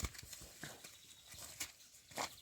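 Two mares harnessed as a pair, their hooves clip-clopping in a loose, uneven rhythm at moderate distance, faint against background noise.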